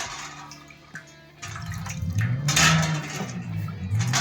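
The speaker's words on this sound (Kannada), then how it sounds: "ಈಗ ಹಾಗಲಕಾಯಿನ ತೊಳ್ಕೊಳ್ಳೋಣ" Bitter gourds are washed by hand in water in a kitchen, with splashing and sloshing that grows louder and continues, plus scattered drips and a faint knock near the start.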